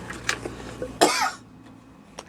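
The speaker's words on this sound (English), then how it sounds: "I coughed on it." A single throaty cough, preceded by smaller throat-clearing sounds, close and alone in a quiet room.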